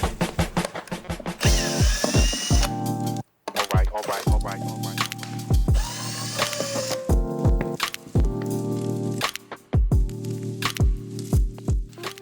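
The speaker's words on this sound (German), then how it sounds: "werde ich jetzt die Jalousie komplett runterlassen" A window roller blind is lowered all the way, giving a long mechanical whir in several runs broken by clicks, knocks and brief pauses, with no talking over it.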